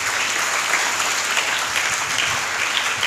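A church congregation at a feast-day sermon breaks into loud, sustained applause, a thick continuous roar of many hands clapping close by, steady from start to finish.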